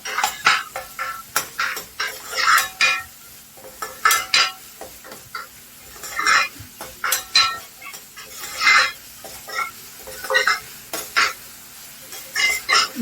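Ginger-garlic paste for tomato rice gets stirred in a hot pan: repeated scraping strokes of a spoon against the pan come in uneven bursts over a soft sizzle, close and fairly loud, with no speech.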